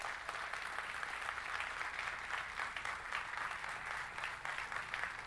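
Church congregation applauding during a sermon, a soft, even, continuous patter of many hands heard from a distance, sustained for several seconds with no speech.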